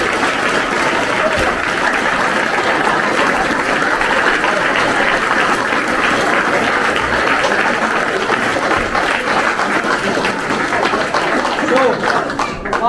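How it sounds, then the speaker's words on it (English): Sustained audience applause for the Jericho volunteers, a dense, loud, continuous wash of clapping from a large crowd lasting throughout, with occasional voices mixed in. "So a big round of applause for them guys."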